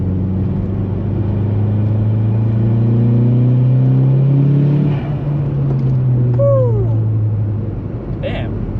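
Volkswagen Golf Mk4 R32 driving in fourth gear around 40 mph with a turbo conversion: a loud, steady engine drone with rising turbo spool whine, and a voice speaking briefly near the end.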